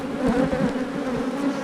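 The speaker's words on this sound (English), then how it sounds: "Take the bees that are in these boxes and just drop them right here in front of the hive" Bees dropped from boxes in front of a hive fill the air with a loud, close, continuous buzzing hum that rises and falls slightly without a break.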